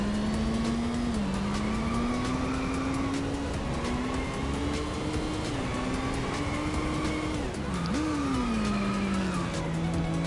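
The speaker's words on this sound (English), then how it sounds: "if you just go ahead and start drifting, it almost feels like it makes it go faster" A race car drifting in the Inertial Drift video game: a steady, loud engine tone with continuous tire squeal, its pitch dipping and rising as the car slides through corners.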